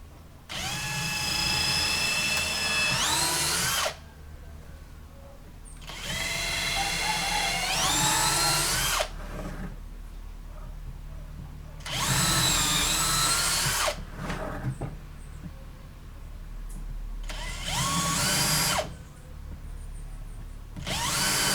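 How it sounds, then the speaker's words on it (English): A power drill bores through an existing hole in a broken wheelbarrow handle. It runs in four loud, steady whining bursts separated by short pauses. "it's pretty easy to drill, because it will just follow the same hole that is already there."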